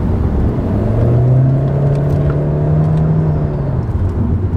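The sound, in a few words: Honda Civic Turbo ES Prestige 2017 accelerating, CVT transmission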